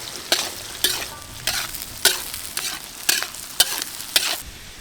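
Mustard seeds, cumin and chopped onion frying in hot oil, a steady sizzle broken by a series of sharp, regular stirring scrapes, close and alone without talk.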